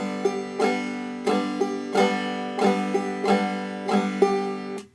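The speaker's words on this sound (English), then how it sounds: "Typically, we play the bump ditty pattern with straight 8th notes" Clawhammer banjo picking a bump ditty pattern in even straight eighth notes, steady plucked strums and brushed strokes repeating about every second, close and clear with no voices.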